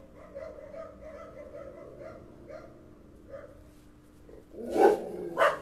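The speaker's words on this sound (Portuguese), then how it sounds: "Meu cachorro, gente, tudo ao vivo." A pet dog gives two loud, close barks near the end, after a stretch of faint whimpering, yip-like sounds over a quiet room during a live stream.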